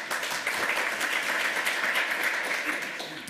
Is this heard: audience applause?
yes